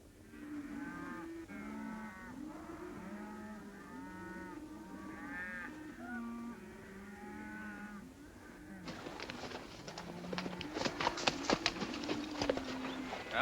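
Cattle rounded up in a basin low and moo repeatedly, several overlapping calls near and far, later joined by clattering hoofbeats and movement.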